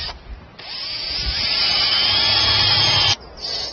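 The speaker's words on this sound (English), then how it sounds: "First we drill a hole." A power drill bores a hole while making an electroculture pole, a steady high whine running for about two and a half seconds, loud and close, with brief quieter bursts before and after.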